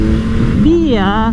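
The engine of a 2024 Yamaha MT-09 SP motorcycle, still in break-in, hums at a steady idle under an Italian-speaking rider, then revs up and falls back in a quick rising and dropping sweep.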